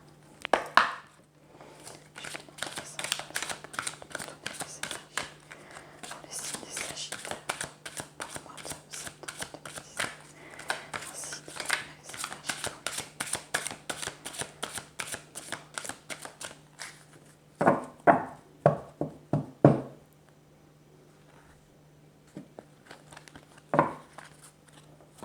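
Tarot cards being shuffled by hand, a long run of quick, close riffling flutters and soft slaps, then a few separate snaps as cards are handled, over a faint steady hum.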